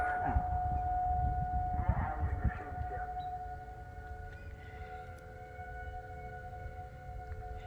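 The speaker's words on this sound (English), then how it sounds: "Esta es una prueba del sistema de advertencia." A warning system test siren wails steadily with a sustained tone, carrying over a lake and heard from a distance against low rumbling background noise, with no talking.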